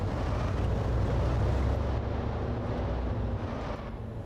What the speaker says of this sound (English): the engine of the UAZ and this are drowning things out